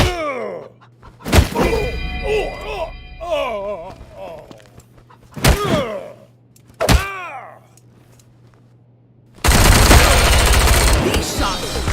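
Gunfire in the video game Wasteland 3: several sharp, loud shots with clattering impacts, spaced between voiced game dialogue, ending in a sustained burst of heavy noise.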